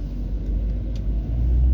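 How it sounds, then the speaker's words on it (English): Low, steady engine rumble from idling and creeping cars in a Thursday-morning traffic jam, heard close from inside a vehicle, with a slight swell in the low drone near the end and no talking. "I'm in a traffic jam"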